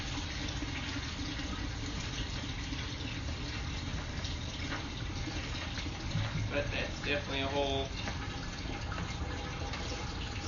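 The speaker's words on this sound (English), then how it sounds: "Somebody's running water" Water pours and splashes into a sewer pipe during a camera inspection, a steady rushing flow throughout with someone talking over it partway through.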